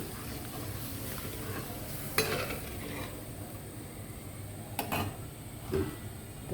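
Yogurt-marinade water poured over chicken sizzling in a pan, a low steady sizzle with a few sharp utensil scrapes and clinks against the pan, no voices.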